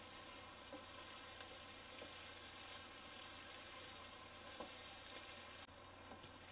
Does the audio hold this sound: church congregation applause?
no